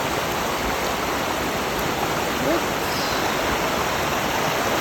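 A swollen, muddy creek on rural acreage rushes like a river, a steady dense roar of flowing water filling the whole stretch, with a brief spoken word over it.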